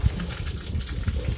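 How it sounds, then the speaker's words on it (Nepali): Water poured straight into a pig's mouth while it is cared for in hot weather, a close, low gurgling splash with uneven pulses and soft wet slurping, no talk. "मुखमै पानी हालिदिन्छु"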